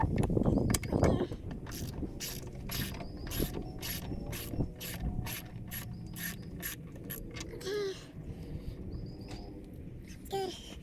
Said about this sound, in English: take these 7 arranged bolts out of the upper intake